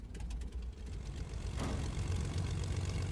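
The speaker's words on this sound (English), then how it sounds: "Sounds like there's another plane over there." A plane in the Fortnite video game drones overhead, a steady low engine hum that grows slightly louder and fuller partway through, with no talking.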